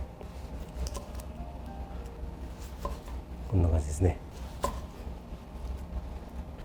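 A knife cuts through a cucumber sushi roll (kappamaki) in a few short, crunchy slices close by, with a person speaking briefly in Japanese before the cuts.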